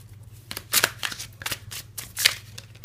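Tarot cards are shuffled and drawn close up, with crisp papery riffling bursts and soft snaps between them over a faint steady hum, and no one speaks.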